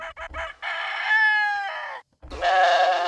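Rooster sound effect from a percussion and FX sample engine: a few short clucks lead into a loud, close cock-a-doodle-doo crow, a brief pause, then a second strained crow.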